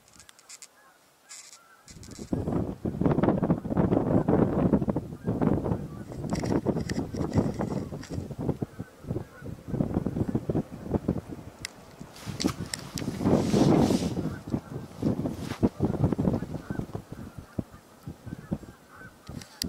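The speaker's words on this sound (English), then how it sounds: "More geese there" A flock of geese honks continuously and loudly, calls overlapping in a busy chorus with swells of louder honking, close by outdoors.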